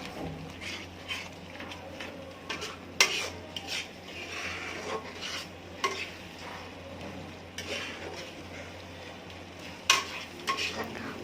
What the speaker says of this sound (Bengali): দিয়ে একটু আঁচটা বাড়িয়ে দেব, বাড়িয়ে দিয়ে আবারও বেশ খানিকক্ষণ কষাতে থাকবো মশলাটা